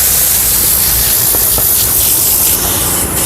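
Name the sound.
vortex air tool on carpet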